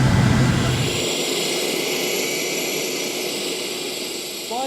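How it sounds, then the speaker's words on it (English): A float plane's engine roars loud and steady, close and continuous, with a low rumble dropping away after the first second and a brief chirp at the very end. "This is the float plane, and it may very well be the future of commuting."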